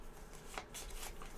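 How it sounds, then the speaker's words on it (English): A deck of cards being shuffled during a tabletop deckbuilding game session, a quick flurry of riffling card snaps in close, soft bursts lasting just over a second with no voices. "We're going to shuffle the discard deck"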